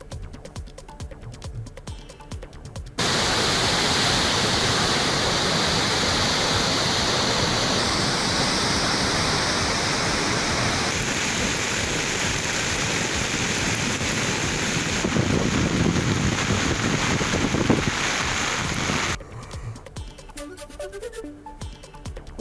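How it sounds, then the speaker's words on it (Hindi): Swollen rivers and streams in Aurangabad district, Maharashtra, roaring after continuous heavy rain, a loud, unbroken rush of water that fills most of the clip before cutting to quieter sound at both ends. "लगातार बारिश की वजह से महाराष्ट्र के औरंगाबाद जिले के नदी नालों में बढ़ा पानी।"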